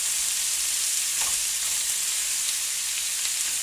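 Peppers, mushrooms and onions frying over high heat in extra virgin olive oil, a steady close hiss of sizzling that runs evenly throughout with no talk over it.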